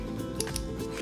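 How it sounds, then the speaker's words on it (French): Metal scissors snapping shut while cutting for a kawaii summer room-decor craft: a couple of quick, crisp snips close by over low background hiss. "J'adore faire claquer les ciseaux."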